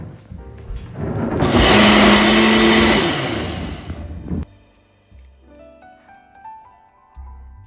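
A blender whirs loudly for about four seconds while blending banana, dates and ragi into a smoothie, rising to a steady roar and then cutting off, followed by quiet clinks.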